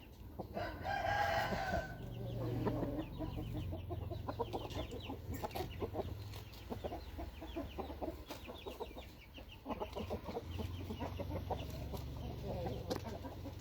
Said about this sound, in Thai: ตัวนี้เป็นไก่ตอใหญ่ครับ